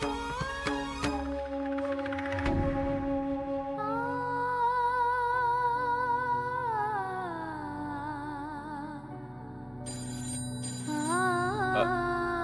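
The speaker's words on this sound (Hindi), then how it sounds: "अरे फोन देखना बेटा किसका है" A phone rings with a melodic electronic ringtone, tones sliding and repeating for several seconds, fairly prominent.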